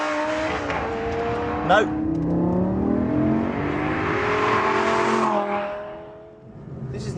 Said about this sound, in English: This is the Aston Vantage V12